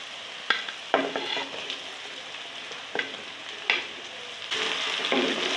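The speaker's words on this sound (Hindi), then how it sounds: "अच्छी तरह भून लेती हूँ टमाटरों को भी।" Tomatoes fry with garlic and ginger in a pan for sarson ka saag, a steady sizzle broken by several sharp stirring scrapes and clinks, close and moderately loud, with no voices.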